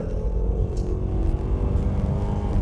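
A 2024 Mazda CX-50 2.5 S Preferred accelerating uphill into a bend in sport mode, a steady low engine rumble and road drone heard from inside the cabin, sustained without a break.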